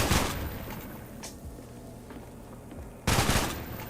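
Short bursts of AK rifle fire in a Roblox first-person shooter: a broadband burst at the start, a brief crack near the middle, and another loud burst near the end, with quieter game ambience in between.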